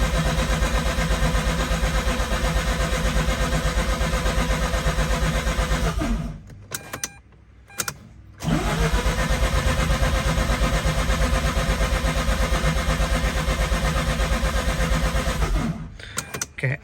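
A Mazda RX-8 engine cranks on and on in a loud, steady churn for about six seconds, falls nearly silent with a brief click, then resumes cranking for several more seconds before cutting off, without catching.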